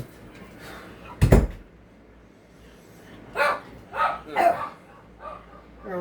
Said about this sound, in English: Got an old fart dog.